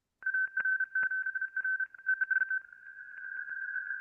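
An off-frequency single sideband radio signal comes through as a steady whistling tone, choppy and stuttering at first, then smoothing into a continuous faint hum.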